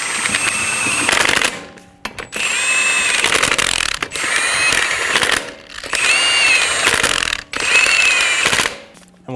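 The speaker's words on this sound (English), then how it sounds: "Snug down the lug nuts." A tool snugs the lug nuts on a 2007-2011 Toyota Camry front wheel in four loud, close, rapid rattling bursts separated by short pauses.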